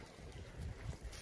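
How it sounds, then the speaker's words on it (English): Wind blowing off a shore at a wooded homestead, a faint, low rumbling gusty buffet striking the microphone, quiet and brief with no talk. "You can see how much wind we got coming off of the shore."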